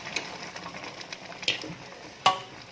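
A pot of curly cassava shoots simmers quietly with a soft, steady bubbling hiss, broken by a few sharper pops and clicks.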